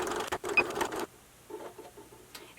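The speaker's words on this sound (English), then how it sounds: "backstitch, forward stitch a couple times along it, and it'll seal the edges off" A sewing machine backstitching along a jeans hem: a short loud burst of fast mechanical stitching, then quieter, slower clicks of the machine, close by with no talk.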